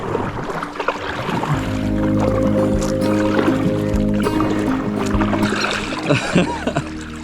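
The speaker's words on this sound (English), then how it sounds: "I'm just paddling straight into fog" A packraft is paddled on the Ganges river in fog, with water splashing and swishing near the boat in repeated strokes over a low steady drone, while a voice murmurs faintly in the background.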